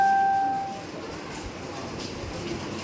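A train at Jhargram railway station sounds a brief tonal horn that fades within a second, then gives way to a low, steady rolling rumble.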